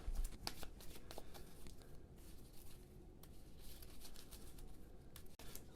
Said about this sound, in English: So let's give all these decks a shuffle here.